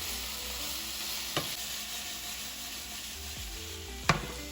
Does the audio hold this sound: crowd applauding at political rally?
no